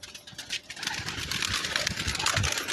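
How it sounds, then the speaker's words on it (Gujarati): Pigeons being let out of their coop on a windy day make a busy flutter of wings and soft cooing, close and steady for a few seconds. "ચાલો મિત્રો આપણે કબૂતરને બહાર કાઢીશું।"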